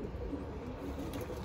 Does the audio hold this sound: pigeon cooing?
yes